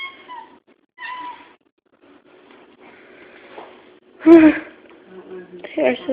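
Cats meow near a woman blowing bubbles for them. Several short meows come in bursts, and she speaks softly between them.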